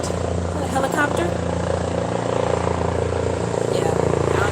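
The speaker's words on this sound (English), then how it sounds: "I don't know if y'all can hear me over the helicopter." Helicopter passing overhead outdoors, a steady loud rotor and engine drone filling the whole stretch beneath occasional talking.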